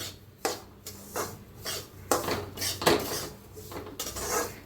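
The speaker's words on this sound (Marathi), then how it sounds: "त्याच्यातच मी खोबरं बी भाजून घेते, किसून घेतलं होतं खोबरं, वाळलं खोबरं आहे।" Grated dried coconut roasting in a pan for karanji filling is stirred in short, uneven scraping strokes, each a close, dry rasp against the metal with brief pauses between.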